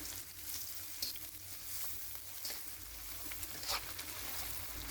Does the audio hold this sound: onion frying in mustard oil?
yes